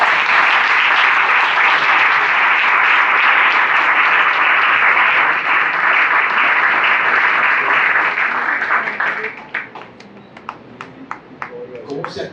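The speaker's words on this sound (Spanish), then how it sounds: "Un aplauso fuerte al Señor." A church congregation at a Sunday service applauds loudly: a dense, roaring wall of clapping and cheering that holds steady for several seconds, then drops away into scattered, separate claps.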